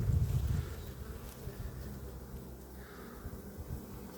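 Honeybees buzz steadily at an opened hive during spring work to wake the colony and reduce the hive, a close, continuous hum that is loudest at the start and then settles into a softer, even drone.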